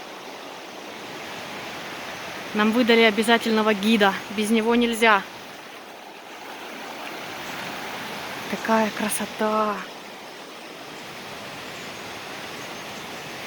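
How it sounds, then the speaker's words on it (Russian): Water rushes steadily at the Fiji waterfalls in Bali, where three falls and a flowing river keep up a constant broad hiss, while someone talks over it in two short stretches. "Здесь 3 водопада сразу."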